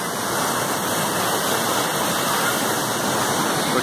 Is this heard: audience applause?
no